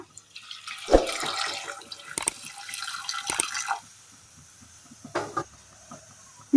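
Hot water is poured into a pot on the stove holding sliced papaya for a Kerala curry, a short splashing gush followed by a few drips and faint clatter, with no talking.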